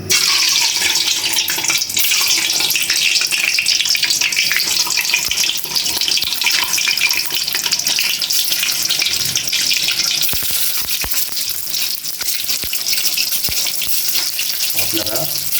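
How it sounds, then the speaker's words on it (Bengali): Whole eggs frying in hot oil in a home kitchen, a loud continuous hissing sizzle that holds steady throughout, with faint knocks and scrapes near the end. "আমি এটা এখন ডিম ভেজে নেব, সম্পূর্ণ ডিম ভেজে নেব।"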